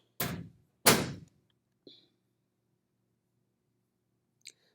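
Two heavy thuds in quick succession, like a door swinging shut, followed by a faint click and a small latch sound in quiet surroundings.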